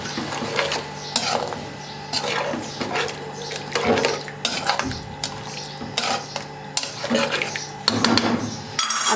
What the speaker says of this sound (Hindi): अब इसको अच्छे से मिक्स कर लेंगे।